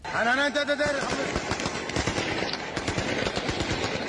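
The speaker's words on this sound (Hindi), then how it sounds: "पूरा इलाका गोलियों की तड़तड़ाहट से गूंज उठा।" Soldiers firing guns at protesters: rapid, dense bursts of shots that keep going throughout, loud and close, with a brief voice near the start.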